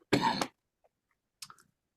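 A single short cough, close and fairly loud, followed by quiet and a couple of faint clicks.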